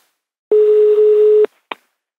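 A single long telephone tone sounds loud and steady for about a second on an outgoing call, followed by a short click.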